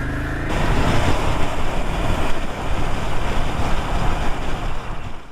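A Ducati Desert Sled motorcycle fitted with a headlight guard is being ridden, its steady engine drone buried under heavy wind buffeting on the microphone, loud and continuous with no talking.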